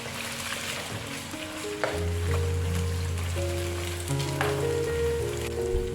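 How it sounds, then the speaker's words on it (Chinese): Chicken pieces go into plenty of hot oil in a heated wok and are stir-fried loose, giving a steady close sizzle with soft stirring scrapes throughout, no talking. "油热后放入鸡肉，让鸡肉过一过油，再将鸡肉炒散"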